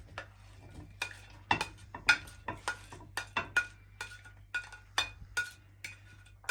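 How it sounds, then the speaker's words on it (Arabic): Utensils clinking and scraping in a pan as peppers, onions and garlic are stirred into a little oil, a steady run of sharp close taps over a low hum. "دلوقتي بقى ننزل بالفلفل والبصل والثوم"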